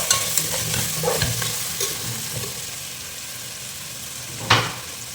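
Tomato and tomato paste fry and get stirred in a pan for Ayila fish curry, a steady close sizzle with scraping stir strokes and one sharp utensil clatter near the end.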